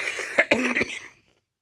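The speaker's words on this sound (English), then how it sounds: "If I get laughing, I cough." A few sharp, close coughs burst out in a quick cluster as someone breaks down laughing during a podcast chat, then fade into silence.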